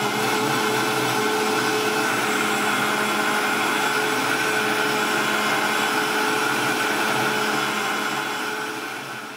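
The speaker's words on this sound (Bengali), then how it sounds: "সেই জিনিসটি সহ দুধ আমি এই ব্লেন্ডারের ভিতরে দিয়ে খুব সুন্দর করে সব কিছু উপকরণ ব্লেন্ডার করে ফেলবো" An electric blender whirs continuously as it blends milk with soaked ingredients for a milkshake, a steady dense motor roar with high whine, loud and close, fading slightly at the end.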